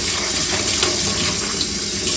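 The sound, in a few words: spraying seeds with lukewarm water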